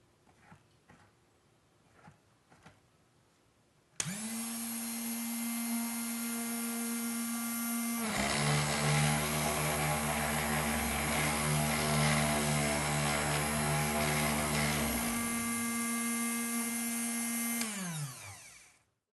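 A Drill Doctor DDSB drill bit sharpener switches on and runs with a loud, steady motor whine for about fourteen seconds, its grinding tone shifting partway through, then winds down to a stop.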